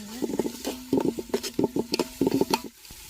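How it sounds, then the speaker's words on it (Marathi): Garlic, ginger and coriander paste masala frying in a pan for a village-style chicken curry, heard as close, repeated spoon scrapes and clatters with a light sizzle, ending in a short pause. "लसूण आणि आलं कोथिंबीरची पेस्ट केलेली मसाला तो टाकून घेते चांगलं सारखं भाजून"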